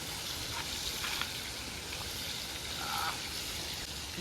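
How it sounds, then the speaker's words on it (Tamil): Ayila fish (mackerel) frying in a pan for a Kanyakumari-style fish fry, a steady close sizzle and crackle with occasional pops, continuous throughout. "பாத்தீங்கன்னா மீன் நல்லா ஜம்மி ஃப்ரை பண்ணிட்டு இருக்கோம். இது அயில மீன்."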